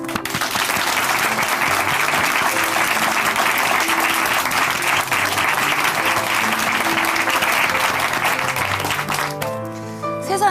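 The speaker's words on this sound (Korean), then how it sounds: "우리 박수로 함께 응원해드리고 함께 힘을 실어드리도록 하겠습니다" An audience at a Christian testimony program applauds steadily and loudly for about nine seconds before the clapping fades out at the end.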